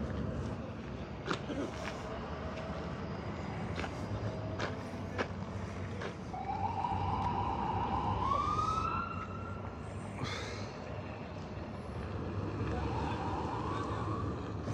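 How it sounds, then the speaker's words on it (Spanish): A Red Cross ambulance siren in Caborca wails in slow rising sweeps at a moderate distance over a steady low rumble and outdoor background, with a few sharp knocks and faint voices. "de la Cruz Roja de Caborca."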